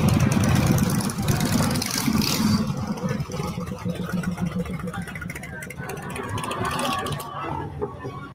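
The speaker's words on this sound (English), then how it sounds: "we brought in all the biker gangs and people that just have motorbikes" Motorbike engines idle at a bike night in Cape Coral, a steady low rumble that carries throughout, with speech mixed in over the running engines.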